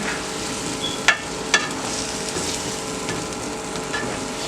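Steak and potatoes frying in a pan make a steady, even sizzle throughout, broken by two brief sharper clicks or scrapes near the start as the food is tossed.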